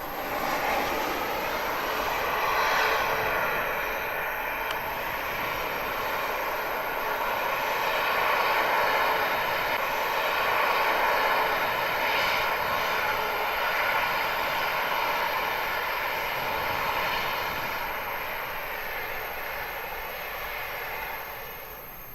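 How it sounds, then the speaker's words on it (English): A Boeing 737 jet landing in strong winds at Dublin Airport, its engines making a steady, loud roar and broadband rush that swells and eases slightly across the whole stretch, with no talking. "This Boeing 737 battling strong winds at Dublin Airport"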